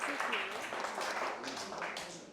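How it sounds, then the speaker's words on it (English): An audience at a founder's event for an art studio breaks into applause, a fairly faint wash of clapping with a voice talking over it throughout. "Let's give him a clap."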